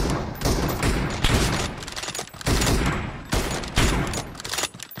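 Rapid gunfire in the mobile shooter BGMI (PUBG Mobile) during a team deathmatch, with repeated bursts of loud automatic shots in quick succession and brief gaps between volleys.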